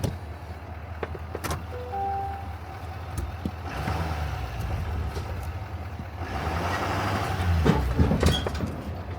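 A truck hauling a packed fertilizer trailer eases forward, its engine rumbling low and steady with some mechanical clunks and a rising swell of motor noise near the end, no talking.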